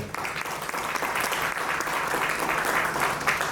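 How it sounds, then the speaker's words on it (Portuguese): At an HR conference in Angola, the audience gives a steady round of applause as a guest takes a seat, with dense, continuous clapping at moderate distance. "Por favor, palmas."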